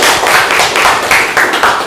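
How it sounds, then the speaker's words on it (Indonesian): Students in a counseling class practice session clap for a classmate, a brief, sparse round of claps with distinct individual hits, fairly close and loud. "tepuk tangan untuk kawan kita"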